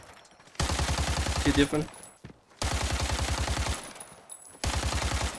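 Automatic gunfire from a first-person shooter game, Arena Breakout: rapid sustained bursts of shots, loud and close, separated by short pauses, with a person briefly speaking between bursts.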